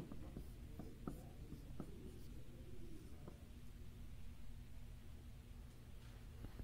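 Chalk tapping and scraping across a blackboard in a mathematics lecture on polytopes, several short strokes and taps in the first few seconds, then quieter steady scratching over a low room hum with no speech.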